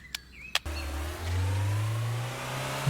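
A car engine in the truck-driving game Trader Life Simulator 2 starts up after two short clicks, then drones and revs steadily, rising slowly in pitch as the vehicle accelerates, loud and alone.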